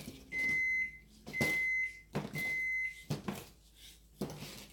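A kitchen oven beeps to signal it has preheated, with three or four long, clear electronic tones separated by short gaps and clattering kitchen noise, close by.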